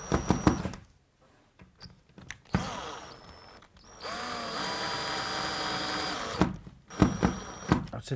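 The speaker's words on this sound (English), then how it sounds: "either using a screwdriver or a cordless drill with a screwdriver bit in" A cordless drill with a screwdriver bit whirs in short bursts, then runs in a longer steady whine as a screw is driven home into a tiled bathroom wall, with clicks and handling noises between runs.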